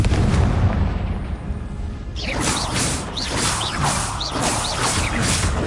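Confringo fire spell blasts in Hogwarts Legacy on a PS4 slim, heard as loud, dense rumbling broken by repeated fiery bursts and whooshes over a few seconds, with no voices.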